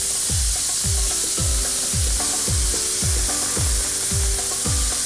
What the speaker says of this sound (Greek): Λίγο λάδι ακόμη και θα σοτάρω για λίγα λεπτά.